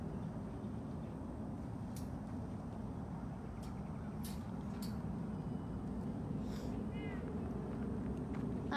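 A rescued big cat calls now and then inside a large outdoor enclosure, with brief faint vocalizations standing out over a steady, loud low rumble of background noise.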